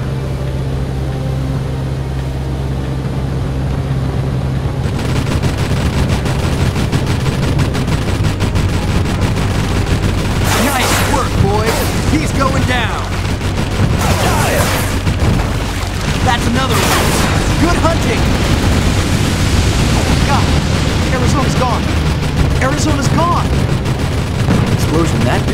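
Gunfire and a heavy ammunition magazine explosion in the naval combat game Battlestations Midway, with loud sustained battle noise, repeated bursts and booms over a constant engine-like drone, and voices talking throughout.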